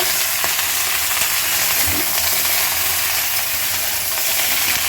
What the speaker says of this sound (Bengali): এই যে হচ্ছে গোটা সেদ্ধ রান্না হচ্ছে।